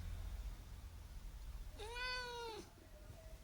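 A pet cat gives a single clear, drawn-out meow at close range, rising then falling over about a second, with quiet room background and no talking.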